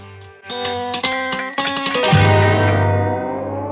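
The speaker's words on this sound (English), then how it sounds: "A bell started ringing." A bell rings out in a rapid series of bright, metallic strikes, building into a sustained, resonant ringing that slowly fades.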